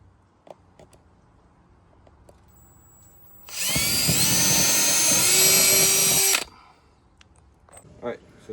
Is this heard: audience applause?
no